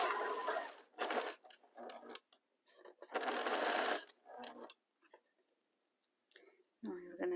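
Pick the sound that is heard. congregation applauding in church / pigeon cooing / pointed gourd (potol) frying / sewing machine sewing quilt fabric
sewing machine sewing quilt fabric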